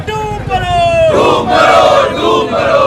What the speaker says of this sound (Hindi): प्रदर्शनकारी नारेबाजी करी रोष जताया